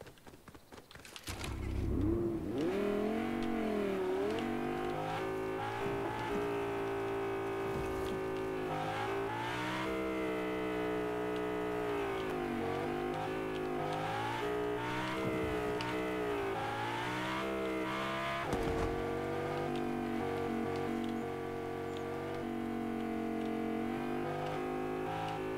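Video game car driving in Fortnite, a steady engine drone that revs up and down with shifting pitch, loud and close for the whole stretch, no talk over it.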